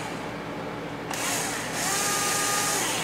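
Power drill driving 5/8-inch screws into a QuadLugs Caddy 340 frame, a loud, close motor whine that starts about a second in and holds steady, briefly dips, then runs on alone.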